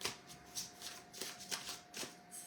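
A deck of angel cards is shuffled by hand, giving repeated riffling bursts about every half second, close and soft.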